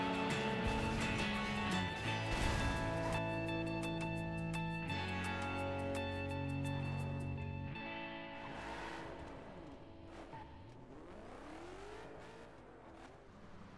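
A car engine revving and accelerating hard in the driving game The Crew, rising and falling in pitch over a steady game background, a near, continuous whine with shifting gears and no talk.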